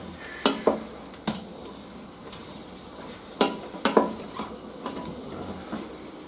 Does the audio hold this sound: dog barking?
no